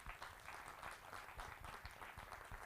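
Faint crowd applause, a steady wash of many hands clapping at a distance, continuing without pause.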